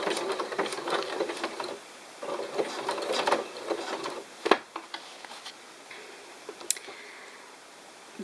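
A sewing machine stitches elastic with an anchor stitch and then a few stitches, giving rapid mechanical ticking bursts in short runs separated by pauses, close and moderately loud.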